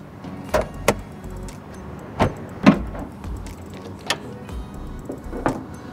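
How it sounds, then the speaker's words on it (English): Bonnet of a 2020 Toyota Landcruiser 79 Series being released and lifted: a few scattered metallic clunks and latch clicks, fairly close, with short pauses between them and no talk. "I'll just pop the bonnet and show you that."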